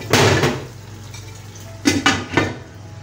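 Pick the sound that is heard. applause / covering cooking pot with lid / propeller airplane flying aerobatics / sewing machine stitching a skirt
covering cooking pot with lid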